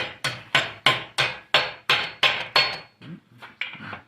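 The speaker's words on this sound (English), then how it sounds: "We're going to hammer it over 90 degrees." Eight sharp, ringing hammer blows strike metal at a steady pace, forging a bar over 90 degrees for a miner's candle holder, then a few lighter taps and knocks follow.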